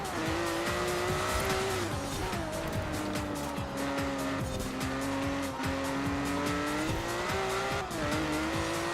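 Ferrari Testarossa driven hard in Forza Horizon 4, its engine droning loudly and continuously with rising and falling pitch as the tires squeal through corners under heavy throttle.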